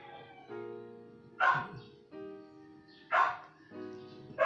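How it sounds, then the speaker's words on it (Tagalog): A dog barking at a distance in short single yaps roughly every second and a half, heard over a steady low hum from kitchen equipment. "Yun yung aming aso siguro."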